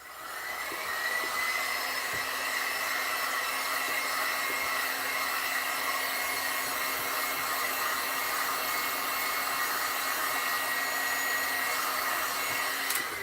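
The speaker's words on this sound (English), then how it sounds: "we're just going to put a little heat on it really fast to dry it" A hair dryer runs steadily and close for the whole stretch, a constant airy whir with a faint motor whine, used to heat-dry DIY clay-based paint.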